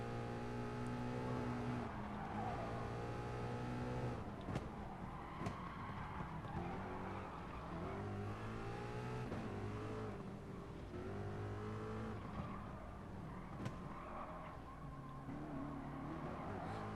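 Race car engines in Gran Turismo Sport, a Vision Gran Turismo trophy race: loud, steady revving that climbs and drops through gear changes, with brief tire skids and other cars passing close by.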